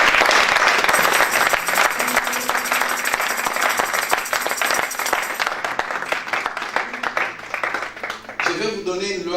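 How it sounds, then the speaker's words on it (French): A church congregation applauds and cheers for God, dense sustained clapping and crowd noise filling the room with voices mixed in, thinning slightly toward the end as music or a voice rises. "Est-ce que tu peux acclamer pour Dieu?"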